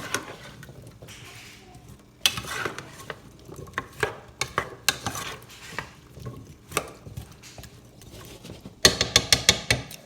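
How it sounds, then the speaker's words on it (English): Curry ingredients being stirred together with seasoning in a pot, giving irregular scraping and knocking clatter of a utensil against the pot, with louder bursts of quick rhythmic clacks near the end. "I'll mix that all together. I'm gonna get everything coated with that seasoning."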